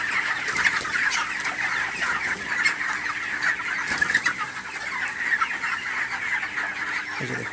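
Young broiler chickens, 23 days old, on a poultry farm cluck and chatter continuously in a dense flock, close and loud, with occasional louder squawks rising above the steady murmur.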